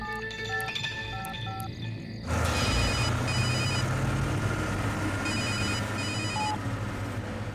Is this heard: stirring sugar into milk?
no